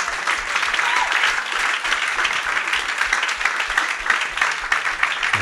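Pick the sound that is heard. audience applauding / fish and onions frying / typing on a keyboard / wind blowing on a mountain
audience applauding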